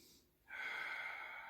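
One deep diaphragmatic breath drawn in slowly through the nose, a steady close airy rush following a softer exhale, with no talking.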